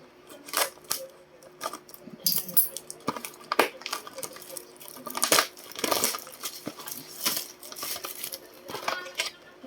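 Scissors snip and crunch through plastic packaging while a newly bought power bank is opened, a run of close, sharp clicks and crinkles with a few louder bursts and no talk.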